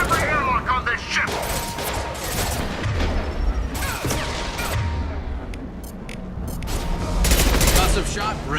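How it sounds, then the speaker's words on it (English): Impact shots and gunfire from the video game Mass Effect 2 crackle in dense repeated bursts with mechanical clatter, loud and continuous over the whole stretch, with voices talking in the mix. "Firing an impact shot"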